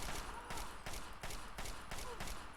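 Rapid gunfire crackles in Fallout 3 as a sniper shoots at the player, heard as a string of repeated sharp bursts at a steady pace, faint and distant in the mix, with no talking over it.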